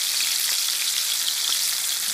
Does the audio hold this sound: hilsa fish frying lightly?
yes